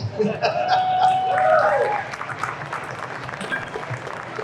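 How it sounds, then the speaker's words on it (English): A convention audience at Nostalgia Con in Anaheim breaks into a round of applause with some laughter mixed in, while a voice talks briefly over the steady clapping. "Round of right. applause."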